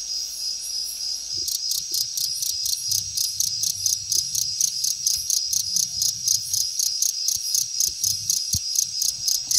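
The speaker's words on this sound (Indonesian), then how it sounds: "Suara jangkrik biasanya digunakan untuk menandakan lawakan yang tidak lucu dan tidak membuat orang tertawa." Crickets chirp in fast, regular pulsed trills, loud and close, with a faint low background rumble and no voices.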